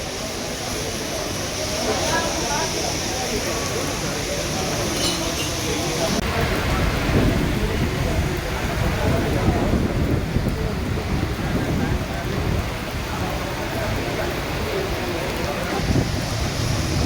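Heavy monsoon rain pours down in Hyderabad, a loud, dense and continuous roar of rainfall that persists throughout, with possible low rumbles mixed into the steady wash.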